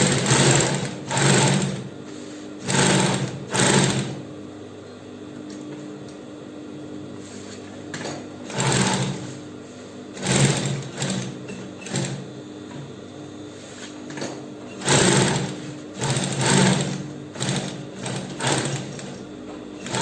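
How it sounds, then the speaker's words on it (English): Foam is sewn directly onto backpack lining close to the edge by a sewing machine, whose loud motorized stitching comes in repeated short bursts separated by brief pauses over twenty seconds. "we'll sew on the foam, but very close to the edge, round like this, to sew the foam directly to the lining"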